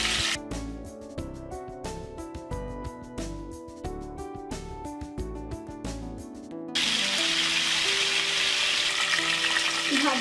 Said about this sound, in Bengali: এক পাশ ভাজা হয়ে গেছে, আমি এখন পাশ উল্টে দিচ্ছি